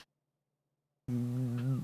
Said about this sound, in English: Yeah, she's a chirper. She chirps. She chirps at me. This kitten.